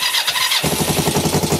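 A 1996 Kawasaki ER5 motorcycle engine is started close by: a high starter whine and squeal, then the engine catches into a loud, rhythmic, pulsing idle.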